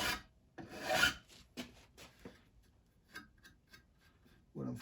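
A file rasps over the edge of a card scraper during sharpening. A few quick strokes land close by, first loud and then fading to lighter scrapes and ticks.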